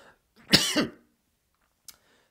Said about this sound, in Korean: 갑자기 기침이 나왔습니다.